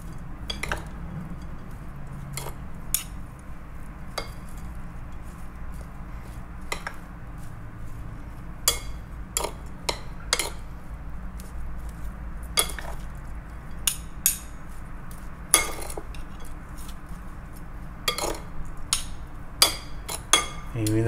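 Utensils clink and tap sharply against a dish while a salmon poke bowl is mixed, irregular bright knocks close by over quiet room tone.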